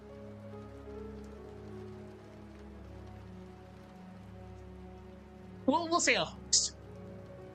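Steady rain falls and hisses continuously with soft sustained tones underneath, while a voice speaks briefly near the end.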